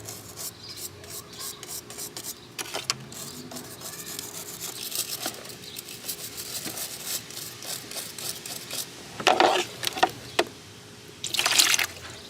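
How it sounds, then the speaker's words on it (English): Scratchy rubbing of a wire brush against a wet Saab car battery post comes in short uneven strokes, mixed with wet sounds, growing louder and harsher in bursts near the end. "And we're gonna scrub the post with a wire brush."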